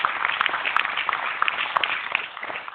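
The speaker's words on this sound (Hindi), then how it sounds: "इनके लिए भी साथियों जबरदस्त तालियां हो जाए।" Audience at a gathering applauding colleagues who stand from their seats: a faint, continuous spatter of many hands clapping, somewhat distant, tapering slightly at the end.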